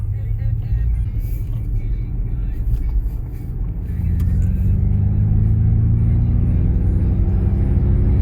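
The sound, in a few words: electric car's artificial V8 engine sound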